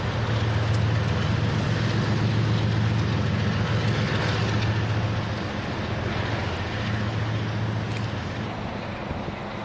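A train passes nearby in a city neighborhood, a steady loud rumble and rushing roar across the whole stretch, with wind buffeting on the microphone and no talk.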